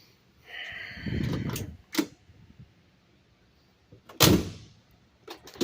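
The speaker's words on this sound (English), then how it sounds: "door sounds heavy, feels good when it shuts" Two solid thuds of a heavy 1957 Cadillac Brougham door shutting, the second louder, with quiet pauses and faint handling sounds between them.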